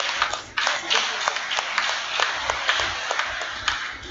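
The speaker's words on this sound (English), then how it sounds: "Let's give her a round of applause." Church congregation at Sunday Mass applauding, a steady patter of many hands clapping, moderately loud and continuous, with a little voice underneath.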